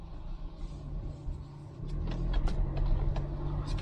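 A car on Uniroyal tyres driving through snow, a low steady rumble that swells as the car gets moving, with soft crunching clicks from the tyres and no talking.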